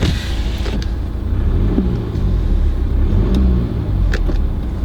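A 2013 BMW 520d diesel engine drones steadily with low rumble, rising briefly as it is revved; road and cabin noise fill the background throughout.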